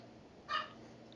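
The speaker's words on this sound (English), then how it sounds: "I'm sorry for the barking." A household dog lets out one brief yip-like bark midway, close by and fairly faint against a quiet room.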